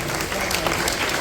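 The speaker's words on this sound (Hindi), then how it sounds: "प्लीज तालियां बजती रहे" An audience at a school event for CM school toppers claps steadily to welcome a guest, a dense, close wash of applause with talking beneath it.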